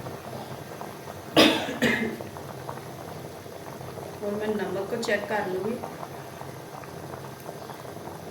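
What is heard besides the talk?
water boiling in pot for kabuli chana pulao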